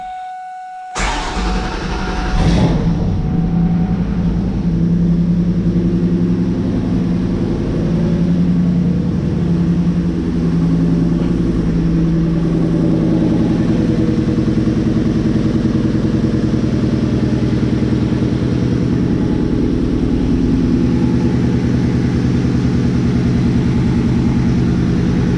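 A 2001–2004 Ford Mustang GT V8 cold-starts after sitting for weeks, cranking then catching into a loud, steady rumbling idle with a sputtering exhaust from a loose connection, close up and continuous.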